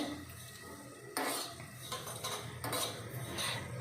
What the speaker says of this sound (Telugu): ఇవి కూడా లైట్గా కొంచెం వేయించుకోవాలి